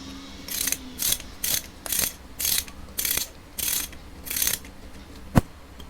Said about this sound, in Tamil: இதுக்கு வந்து 12 mm ஸ்பேனரை வச்சு அதை லூஸ் பண்ணிக்கோங்க